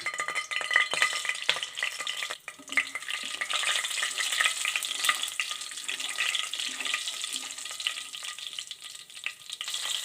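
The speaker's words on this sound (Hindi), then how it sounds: "ऑयल गरम हो गया है, इसके अंदर अब मैं ज़ीरा डालूँगी 1 टेबल स्पून।" Cumin seeds dropped into hot oil for a tadka for dhaba-style mash daal, sizzling in a loud, continuous crackling hiss that runs unbroken and close throughout.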